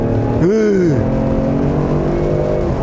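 A Ford Explorer plug-in hybrid rated at 501 horsepower pulls hard in sport mode with a held-down gear, its engine note rising and then dipping, heard loud from inside the cabin under a steady road roar.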